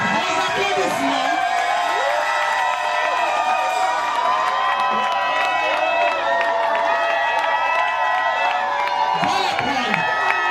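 An audience at a pastor's 50th birthday reception keeps up loud, continuous cheering and whooping, with some clapping and voices calling out over a dense crowd din throughout.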